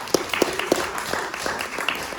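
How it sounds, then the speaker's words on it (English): An audience at a shadow-puppet storytelling show applauds a volunteer, a short burst of scattered, fairly close claps that trails off into softer clapping. "Round of applause, please, for victim number 1"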